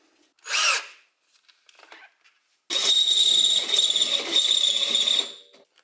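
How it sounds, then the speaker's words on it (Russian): A power drill with a 12 mm bit whirs steadily for a few seconds after two short bursts of spinning, close and loud, then winds down. "Возьмем сверлышко 12 миллиметров."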